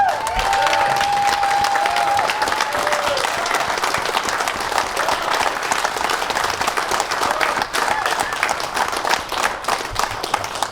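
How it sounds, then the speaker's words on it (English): Standing applause and cheering fill a golf tournament crowd gathering at a charity cancer fundraiser event, sustained dense clapping with scattered shouts and whistles throughout, loud and continuous from start to finish. "Let's give this guy a big standing applause."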